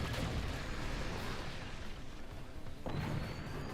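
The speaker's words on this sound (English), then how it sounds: "Here we see the first cannon, well, the first cannon fired at Picksnips' core as opposed to the weapons platform" Heavy cannon blasts from a multiplayer video game match, with a broad booming rumble filling the whole clip and a fresh loud blast near the end, no talk over it.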